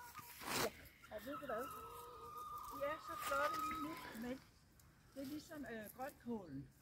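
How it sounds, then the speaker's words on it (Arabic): Black jungle fowl cluck repeatedly in short, close bursts around a village farm, with people talking in the background between the calls. "فهنا يسمونه دجاج الغابه هذا الاسود"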